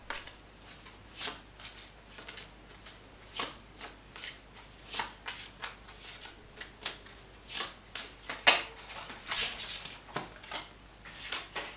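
Quiet, close riffles and soft slaps come from an astrological card deck being shuffled by hand. The bursts repeat in an uneven rhythm with no talk over them.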